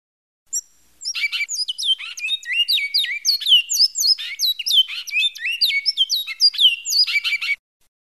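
A great-billed seed finch, or bicudo, sings a clear, loud run of rapid whistled and chirping phrases, repeated in a lively sequence for several seconds after a single opening note, alone and close.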